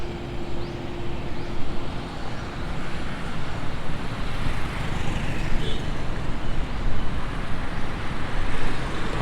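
Car driving along a road in Pattaya, where some roads are still under construction; a steady, loud rumble of engine and tyre noise runs throughout, with the roar of passing traffic.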